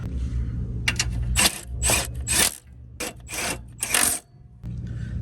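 Hand tools tightening three 13 mm bolts on the auxiliary radiator bracket of a sixth-generation Camaro SS, heard as close, repeated bursts of ratcheting and scraping separated by short pauses.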